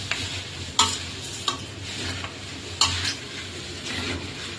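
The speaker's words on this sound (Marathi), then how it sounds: "आपण याच्यात आपण कुरमुऱ्या टाकूया आपण मस्त वेळ मिक्स करूया व्यवस्थित" Puffed rice (kurmura) stirred in a pan for chivda, a continuous dry rustling and scraping with several sharper knocks of the utensil against the pan.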